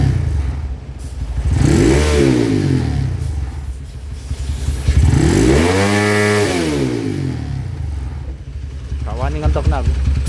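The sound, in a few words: Honda Tiger motorcycle engine revving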